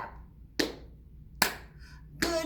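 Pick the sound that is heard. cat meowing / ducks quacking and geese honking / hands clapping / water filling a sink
hands clapping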